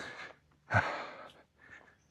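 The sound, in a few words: winded panting while climbing a slope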